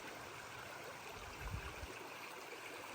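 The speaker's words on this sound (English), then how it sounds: "This is a nice flowing creek." Soft, steady wash of a flowing mountain creek, a faint continuous stream murmuring with a brief low rumble partway through.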